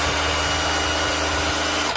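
A DeWalt rotary hammer runs in chisel mode with a loud, steady motor whine and a rapid buzzing hammer action close by, then cuts off abruptly at the end.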